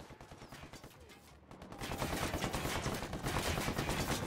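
Automatic gunfire from a firefight in Ghost Recon Wildlands against rebel hostiles, sparse at first and then thickening into a loud, sustained barrage of rapid shots after a brief lull.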